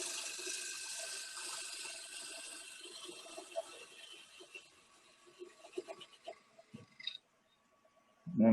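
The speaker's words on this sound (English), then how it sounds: "I'm going to use a parting tool to do that" A lathe parting tool cuts into the end of a turning workpiece with a light pass, giving a steady scraping hiss that fades, a few clicks and knocks, then silence before a loud thump.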